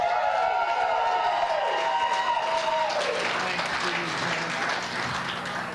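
Comedy club crowd breaks into loud applause and cheering for a comedian taking the stage. Music and an amplified voice sound at first, then a dense wash of claps and whoops swells up near the room and carries on.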